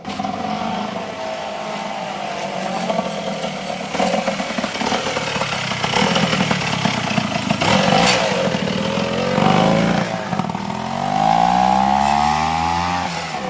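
A 1973 Yankee 500 twin-cylinder two-stroke motorcycle engine runs loud and close with a raspy, crackling buzz, revving up and down in surges with rising and falling pitch.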